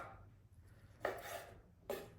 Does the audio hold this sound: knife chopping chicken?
yes